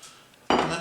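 A spoon stirs pot roast gravy in a slow cooker, giving a brief, close scraping and clinking against the pot after a quiet moment.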